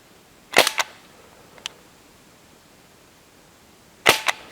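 A Crosman 1077 CO2 air rifle fires two sharp, close pops several seconds apart, each followed by a quick echo or ping, with a faint click between them.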